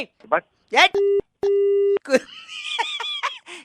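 A telephone line drops to a busy tone after the call is hung up: two flat, steady electronic beeps in a row, sandwiched between bursts of laughter and chatter close by.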